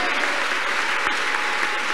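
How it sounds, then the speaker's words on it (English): A church congregation claps their hands together in steady, loud, continuous applause that fills the room without a break. "Clap your hands unto God of the chosen."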